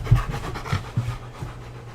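A puppy pants close up in quick, rhythmic breaths, a short run of soft huffing puffs on a homestead with no talk over it.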